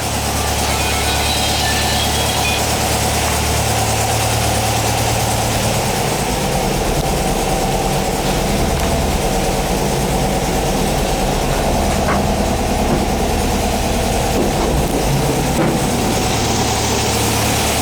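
Engine of a 1959 VW single cab pickup running steadily while being put into gear, a loud continuous low rumble close by with no talk.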